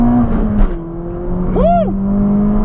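A car accelerating hard, its engine note climbing and falling in a quick rev sweep over a steady engine drone, heard close and fairly loud, with a brief vocal exclamation near the start.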